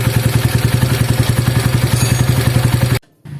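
Honda GL100 motorcycle engine idling after a rebuild with valves readjusted, a loud, even, rapid thumping beat from close by, cutting off abruptly before a quieter resumption.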